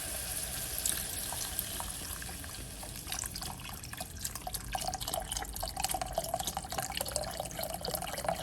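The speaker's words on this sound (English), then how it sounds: "And here I'm just adding some beef stock in." Beef stock pours into a pan of brown gravy with a soft, continuous trickle and faint splashing, close by and fairly quiet.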